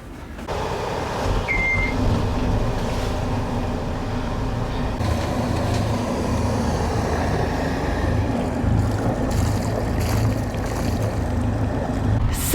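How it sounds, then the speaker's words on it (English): Sailboat engines idling and warming up at the start of a passage from St Martin to Guadeloupe, a steady low rumble with faint whining tones, continuous and close with no talk. "Engines are on and warming up."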